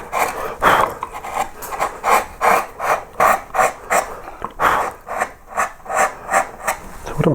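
Chisel cutting straight down into wood while carving Celtic knot outer edges, a series of close, repeated scraping and rasping strokes in an irregular rhythm with brief pauses, no talking.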